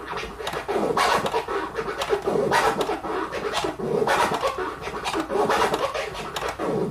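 Turntable scratching begun in the middle of a sample gives repeated slurred, scratchy strokes in an uneven rhythm for several seconds, close and fairly quiet, with no talking.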